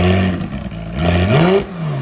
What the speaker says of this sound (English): Go ahead and give it gas. Rev it like that. It's so loud.